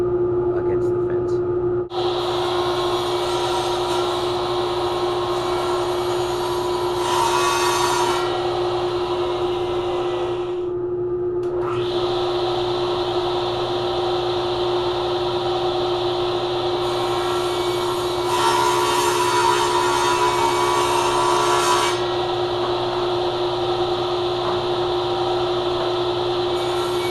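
A power saw trims the ends of a mulberry wood slab to length, running as a steady loud whine with two louder cutting passes, alongside someone talking.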